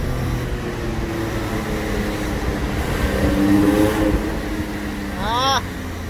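A car drives loudly through the tunnel in Monaco, its engine roar building and echoing off the tunnel walls, swelling near the middle before a brief rising whine near the end, with chatter around it.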